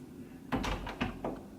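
Door being opened to trip an alarm system's door sensor, giving a few close knocking thuds and a rattling latch in quick succession.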